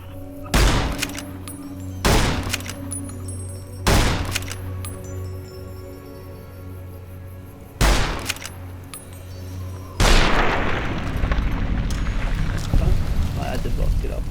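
Gunfire in the video game Fallout New Vegas: several sharp single shots at irregular intervals, then a longer loud burst near the end, mixed with ambient game background.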